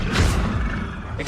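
A Confringo fire spell cast in the wizarding game Hogwarts Legacy gives a short, dense burst of roaring, crackling noise with a deep rumble underneath, loud and close throughout.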